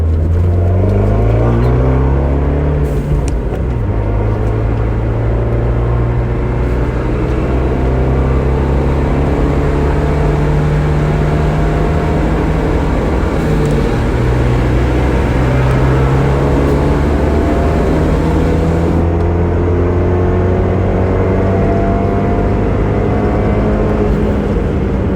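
Fiat 124 Spider Abarth and Audi S4 pulling hard in fourth gear, a loud, continuous engine drone rising steadily in pitch for the whole stretch, with wind and road roar close by and no talk.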